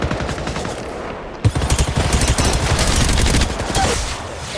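Rapid automatic gunfire from hip firing in Apex Legends Mobile, loud bursts of close shots in quick rhythmic succession with a sharp crack partway through.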